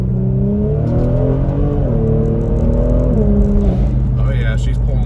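A Kia Stinger with simple bolt-on upgrades accelerates hard under turbo boost, the engine note rising steadily through gears with brief dips at shifts, loud and close inside the cabin, with a voice talking over it.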